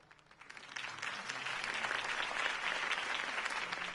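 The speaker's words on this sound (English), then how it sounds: "If only Mr. Wayne, my campaign's largest backer, could have heard that applause" Crowd applause following a campaign speech in the Batman video game by Telltale, clapping swelling in over the first second and then holding as a dense, steady ovation.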